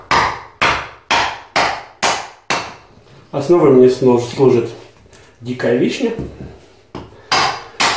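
A small hammer strikes down on a wooden block of wild cherry to split it, sharp evenly spaced knocks repeating close by, broken off by someone talking in the middle before the strikes resume.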